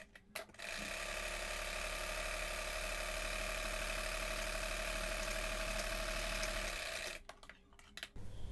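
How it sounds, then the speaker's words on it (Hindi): A sewing machine sews a straight seam on a young girl's skirt top, its steady, close mechanical hum and rapid stitching rattle running continuously for about six seconds after a few brief clicks, then stopping abruptly. "अब इस तरफ से सीधी सिलाई लगाएंगे।"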